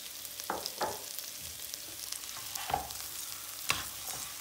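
Boiled chickpeas being stirred into rice pilaf in a pot, a few soft scraping and shuffling strokes over a quiet background sizzle, close and gentle.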